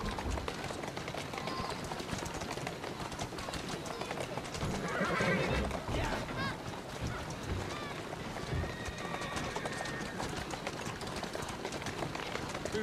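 Horse hooves clip-clop at a steady run in the video game Assassin's Creed Syndicate, with a horse neighing amid game sounds and a voice talking over it.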